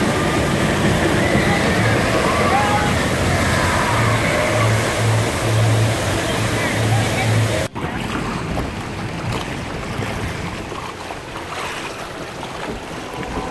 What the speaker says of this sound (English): It's a log flume.